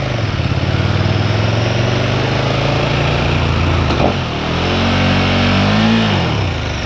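A motorcycle engine drones loud and close as the rider brakes and downshifts during an emergency stop, its pitch holding steady, dipping with a brief clunk, then climbing and falling again as the revs change.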